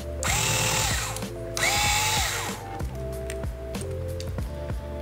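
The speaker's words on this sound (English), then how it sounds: "you have to unscrew the Wi-Fi bracket from the card" Small screwdriver or driver backing a screw out of the Wi-Fi card bracket inside an HP Chromebook 11 G9, with short whirring bursts and clicky mechanical ticks close by, quiet and without speech.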